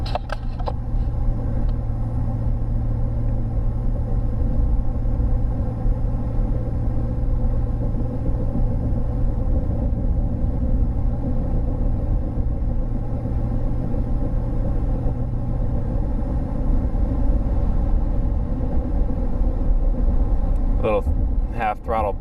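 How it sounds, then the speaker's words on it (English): Truck exhaust fitted with a 30-inch FTE resonator, giving a steady, subdued low rumble that swells slightly under a half-throttle burst of acceleration, heard from inside the cab without talk. "Little half throttle burst there."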